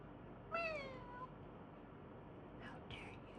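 A cat in a leather bag-making workshop gives one clear meow near the start, then a second fainter meow about two seconds later, both soft against a quiet room background.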